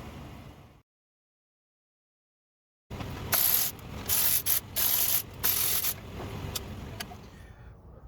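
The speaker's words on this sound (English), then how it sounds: "let's pop a metering block off, let's have a look at this" A carburetor metering block being removed, heard as close metallic scraping, rubbing and clicks after a brief silence, with short bright clinks of parts. No one speaks.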